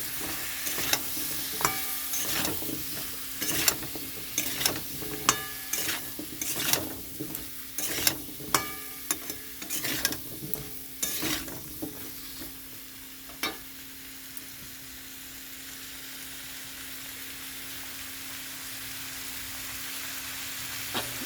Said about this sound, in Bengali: এখানে কচুগুলো দিয়ে দিচ্ছি। এখন এটা ভালো করে কষাবো।